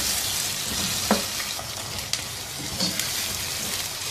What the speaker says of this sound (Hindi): और अब इस प्याज को 2-3 मिनट पकाएंगे ऐसे ही हिलाते हुए।